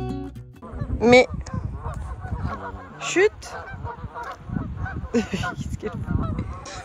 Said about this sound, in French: Par contre ils font du boucan ces canards, non?